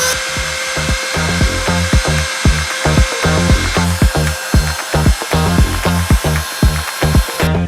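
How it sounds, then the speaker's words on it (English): A budget CNC router cuts out a sign with a loud, close, rhythmic chattering grind, regular pulses of the cutter repeating steadily with no voices. "got the material held down on both CNCs. Hitting go on this one."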